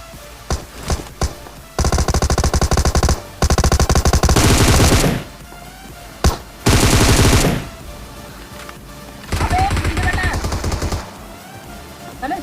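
Bursts of automatic gunfire from the battle royale game PUBG, with several loud sustained volleys separated by short gaps and a few single sharp shots in between.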